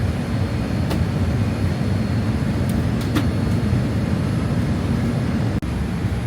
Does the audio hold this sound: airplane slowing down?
yes